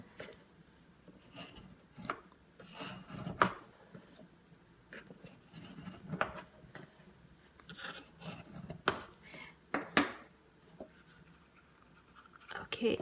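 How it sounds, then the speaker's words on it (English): A bone folder burnishes the paper flaps of a round gift box in irregular scraping, rubbing strokes, with short bursts separated by quiet pauses, close up. "take your bone folder and, you know, give these flaps a good burnish"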